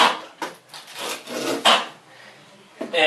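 A margin trowel scrapes and smears tile adhesive across a bathroom wall in repeated strokes, a close, loud rasping scrape with short pauses between passes.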